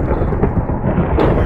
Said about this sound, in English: There's a serious storm going on outside. A serious lightning storm.